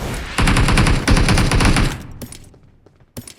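Video game gunfire erupts in rapid bursts of loud automatic fire, then trails off into a few scattered single shots.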